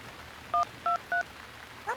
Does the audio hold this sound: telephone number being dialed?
yes